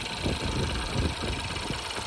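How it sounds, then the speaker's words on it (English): A 2013 Ford Fiesta's 1.0 EcoBoost three-cylinder engine, with a high-pressure fuel pump fault, idles with a steady, slightly lumpy pulsing rumble, close and continuous. "They're quite a noisy engine. They're only 3-cylinder,"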